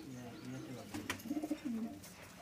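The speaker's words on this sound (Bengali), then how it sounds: "টেডি একদম অরিজিনাল টেডি, ভালো মানের কবুতর দেখতে পাচ্ছেন" Teddy pigeons coo softly in a loft, a short run of low rolling coos in the second half, close and fairly quiet, with someone talking nearby.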